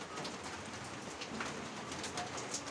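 Steady rain falling on a surface, a continuous close hiss with scattered drop patter, likely with faint bird cooing in the background; no talking.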